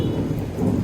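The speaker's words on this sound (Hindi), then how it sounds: "आज आसमान जो है बहुत गरज रहा" Low rumbling thunder rolls steadily through a rainy morning after a night of heavy rain, a continuous dull boom with a soft rain wash beneath, no voices.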